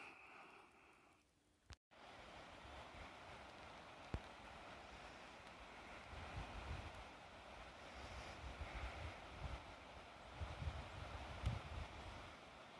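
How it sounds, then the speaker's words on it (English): Creek water rushes in a steady, soft broadband wash through an Appalachian spring woodland, continuous and fairly distant, with a brief knock near the start and no talking. "Can you hear the creek and the water rushing?"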